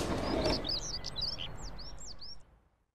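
Small birds chirp in a garden, giving a quick series of high, thin tweets over a soft background murmur that fades out near the end.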